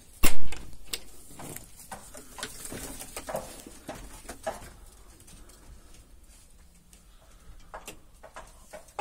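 Late-born young racing pigeons coo softly in their loft, with scattered wing flutters, taps and shuffles, and a sharp knock at the start, heard up close without talk.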